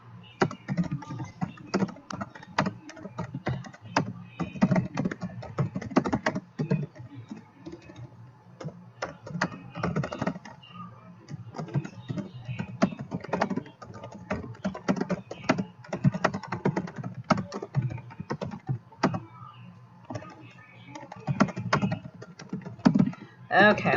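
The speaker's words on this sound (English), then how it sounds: "I keep typing and erasing." Someone types and erases steadily on a computer keyboard during a committee meeting, with rapid, irregular close clicks and a faint voice underneath at times.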